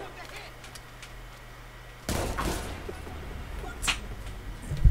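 A single sudden loud gunshot in Watch Dogs 2 fired to the face, a sharp blast that rings out over quiet background, followed by a lingering tail and faint speech.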